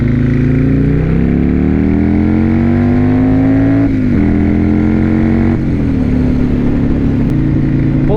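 Buell S1 Lightning with a Sportster-based V-twin engine, revving loud and close as it accelerates steadily and shifts through the gears, with the engine note dipping briefly at each gear change.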